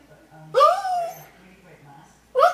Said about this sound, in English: that's one of my little chihuahuas there you're hearing